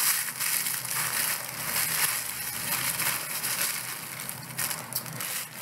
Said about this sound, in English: You can crush them right up in the sleeve.